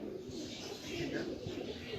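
Pigeons, black-marked Chinese pigeons kept on a rooftop, cooing softly in a low throaty murmur, faint and somewhat distant amid open-air background noise.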